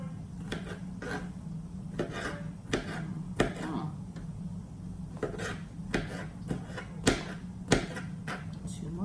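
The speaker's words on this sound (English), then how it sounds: "I'm going to finish chopping these up." A knife chops grapes on a cutting board for a fruity chicken salad, giving sharp, irregular taps and clicks close by, spaced unevenly over a low, quiet room background.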